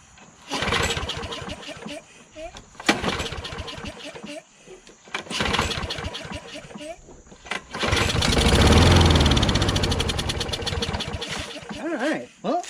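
A John Deere JS26 self-propelled lawn mower with a 6.75 Briggs Quantum engine starts with a few sputtering pulls, then runs steadily and loud near the end, with someone talking in between.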